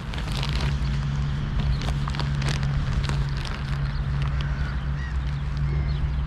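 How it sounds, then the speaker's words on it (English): Seagulls calling as they are fed grain outdoors: scattered short cries over a constant low hum and a steady wash of background noise. "Oh, here comes the little seagulls."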